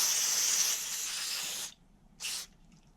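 Aerosol spray can hissing onto an engine gasket on a Duromax 7hp engine: one long close spray burst, then a pause and a second short burst.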